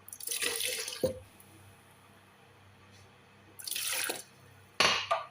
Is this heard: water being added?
yes